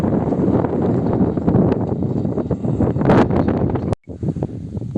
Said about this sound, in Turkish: Şu an e, aşırı derecede rüzgar var.